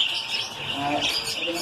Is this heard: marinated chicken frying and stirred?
no